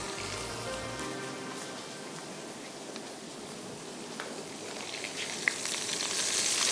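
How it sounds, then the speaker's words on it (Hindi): Onions sautéing in oil for an achaari lobia tinday dish, giving a soft continuous sizzle with faint crackles that grows a little louder toward the end, with no talking. "थोड़ा सा इसको सौते होने देते हैं"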